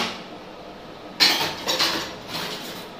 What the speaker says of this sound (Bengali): বাসনগুলো ধুয়ে দিলাম